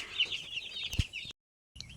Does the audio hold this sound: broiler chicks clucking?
yes